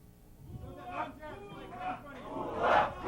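A crowd chants at a fight in Brazil between Oleg Taktarov and Marco Ruas, rising and falling rhythmic shouts in the distance under a commentator's voice.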